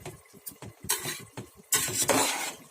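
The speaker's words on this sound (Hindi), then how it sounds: "अब इसको अच्छे से मिक्स करके" A spoon stirs and mixes raw mutton biryani rice with added ground coconut and poppy seeds in a pot, with repeated scraping strokes and louder clattering scrapes toward the end.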